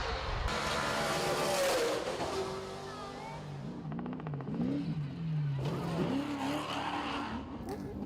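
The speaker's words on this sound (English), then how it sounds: "you'll hear Dennis get on that gas and take us through some pretty interesting dirt trails here" An off-road vehicle accelerates hard along dirt trails at around 45 to 50 miles per hour, its engine revving and rising in pitch as tires scrabble and skid over loose ground, close and continuous.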